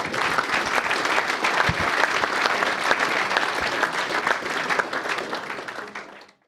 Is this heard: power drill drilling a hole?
no